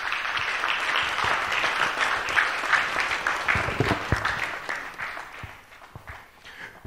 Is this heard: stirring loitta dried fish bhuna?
no